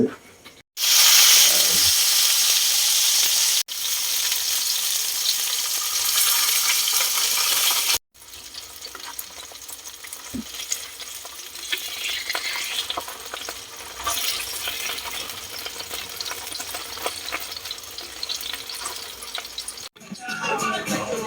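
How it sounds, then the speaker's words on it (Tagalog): Homemade pork luncheon meat frying in a pan, a loud steady sizzle with bursts of crackle and popping that pauses briefly between stretches. "Iprito po natin para matikman natin kung ano lasa."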